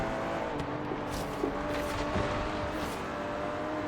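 Aston Martin V12 Zagato engine in Forza Horizon 3, revving steadily under load with a continuous droning roar and brief dips at gear changes, close and loud throughout.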